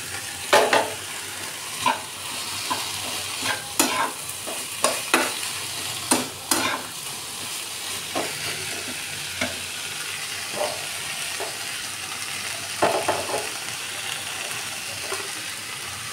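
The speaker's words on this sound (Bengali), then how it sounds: "আমি এখানে পনিরটা দিয়ে দিচ্ছি।" Paneer cubes stir-fried in a pan over a sautéed onion-and-spice base for a homemade Bengali pizza topping, with a steady soft sizzle under repeated sharp scrapes and clinks of a spatula, close and fairly quiet.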